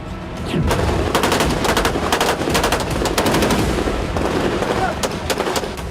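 Russian air defense gunfire over Crimea rattles in fast repeated bursts against a dense rumbling background, loud and continuous for several seconds.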